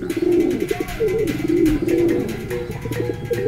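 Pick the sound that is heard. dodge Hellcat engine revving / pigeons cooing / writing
pigeons cooing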